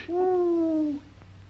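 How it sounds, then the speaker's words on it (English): One clear, sustained owl hoot, close and steady for nearly a second before cutting off, set against a quiet outdoor background in a classic western adventure show. "Hey, that sound like an owl to you?"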